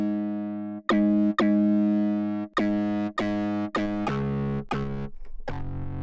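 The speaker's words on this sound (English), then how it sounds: "let's just see if they have a distortion effect somewhere" Arturia SQ80 V software synth bass played through a germanium distortion effect: a gritty, buzzing sustained tone broken into a series of held notes and short retriggers, loud and alone.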